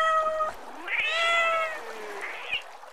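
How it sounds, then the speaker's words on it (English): Cartoon cats meowing in an animated physics lesson, two or three drawn-out, tonal meows one after another, clear and close with no talk. "And here we have his friend Copper, who is covered in cats."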